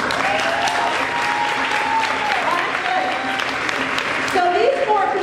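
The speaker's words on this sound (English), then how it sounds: "I think they're gonna need you to clap." A school audience claps steadily to encourage four volunteers on stage during a teachers' presentation. The applause is loud and sustained, with background music and a few raised voices mixed in.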